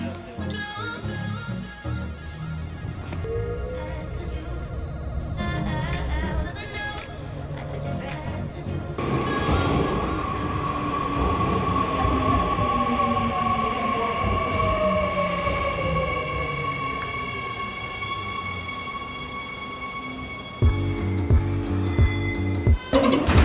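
A New York City subway train rolls along steadily for the whole stretch, its loud rumble and rail noise rising mid-ride with squealing tonal whines, then clattering as it slows near the end; some talk may sit under the din.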